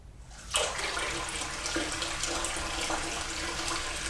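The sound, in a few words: water spraying from sink shower onto bath bomb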